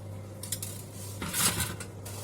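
A metal bowl is lifted out and set down in a kitchen, giving a few light clinks and then a louder cluster of clattering knocks, close and without any voice over a low steady hum.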